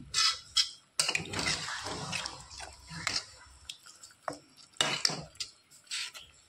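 Rinse water from a spice bowl goes into a pan of fried masala for bhindi chorchori, with splashing and dripping mixed with clattering metal utensils and scraping, close and uneven.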